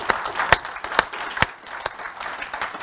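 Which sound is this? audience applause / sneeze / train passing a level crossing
audience applause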